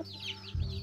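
A native chicken gives a brief, close cluck, a single short call over a quiet farmyard background.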